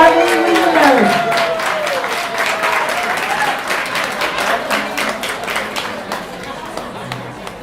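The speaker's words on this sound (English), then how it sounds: "can we get a nice warm round of applause for Mr. Long Beach, Harvey Wiesenberg" A warm round of applause from an audience at an arts awards event in Long Beach, dense steady clapping with crowd chatter, loud at first and tapering off gradually.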